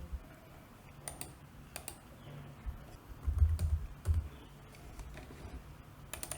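Keys tapped on a computer keyboard while entering a search in UiPath automation software, a few scattered clicks followed by a denser, louder burst of quick keystrokes near the middle, close and fairly quiet.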